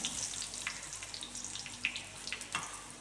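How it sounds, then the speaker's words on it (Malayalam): Dried red chillies, cut into pieces, fry in hot oil in a kitchen pan, giving a soft, continuous sizzle with scattered small pops, fairly faint and with no voices over it. "എണ്ണ ചൂടായി വന്നിട്ടുണ്ട് നമുക്ക് വറ്റൽമുളക് ഇട്ട് കൊടുക്കാം"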